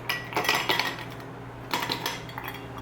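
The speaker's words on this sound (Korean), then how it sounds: "다음엔 얼음을 넣어줍니다." Ice cubes clinking and rattling into a cup while making strawberry milk tea, two short bursts of clattering close by with a quiet pause between, no talking.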